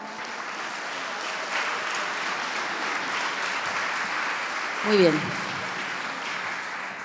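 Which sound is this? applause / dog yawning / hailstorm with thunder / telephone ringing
applause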